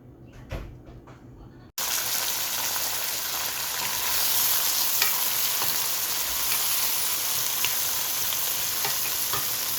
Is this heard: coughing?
no